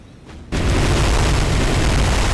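Bombs burst and guns fire during an Italian ship attack in War on the Sea, a naval combat video game: after a quiet half second, a sudden sustained roar of blasts and gunfire fills the rest, loud and dense.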